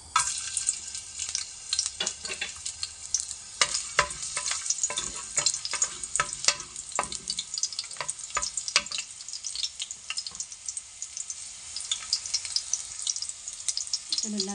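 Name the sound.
garlic frying in hot oil in a pan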